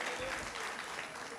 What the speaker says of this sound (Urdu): سو بہت ساری تالیاں اعجاز فاروقی صاحب کے لیے